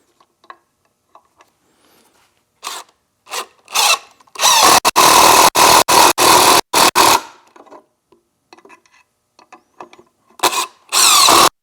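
A power drill drives pocket hole screws into wood while a router table stand is assembled, with loud broadband bursts of whirring around the middle, separated by short pauses and quieter handling clicks before and after.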